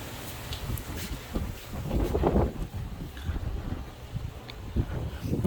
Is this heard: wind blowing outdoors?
yes